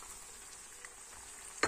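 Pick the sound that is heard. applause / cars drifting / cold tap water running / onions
onions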